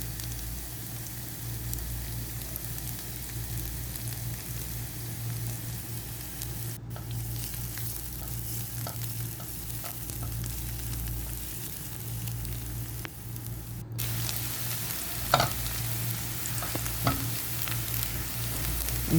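Finely chopped garlic sizzles steadily in a frying pan for tuna pasta, a continuous close crackling hiss with a low hum beneath and occasional small pops.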